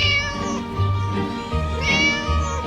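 A cat meows repeatedly inside the Scary Teacher video game, loud and close, with several drawn-out, rising and falling calls in quick succession.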